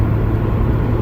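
A 2005 Acura RSX Type-S cruises along with a steady low engine hum and road rumble, a brief, even drone with no speech.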